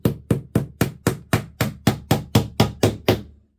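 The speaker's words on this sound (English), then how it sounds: "Excellent hammering." Hammering while assembling furniture for a sewing room: about fourteen sharp, evenly spaced hammer strikes in a steady rhythm, close and clear with nothing else heard.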